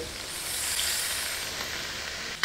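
Water poured into a hot wok of stir-fried winter melon in red chili oil sets off a steady, even sizzle and hiss, fairly quiet and continuous throughout.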